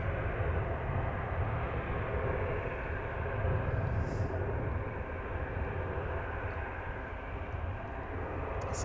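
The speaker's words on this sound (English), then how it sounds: "we've also got Brussels Airlines just arrived" A Brussels Airlines Airbus A320-200 in Red Devils livery arrives at Manchester Airport, heard as a steady, fairly distant jet rumble without a clear peak.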